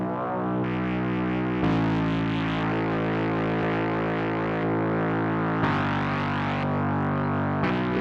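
Ableton Live 12's Drift synthesizer plays sustained, buzzy distorted tones that change pitch and timbre in several distinct steps, loud and continuous with no speech over them.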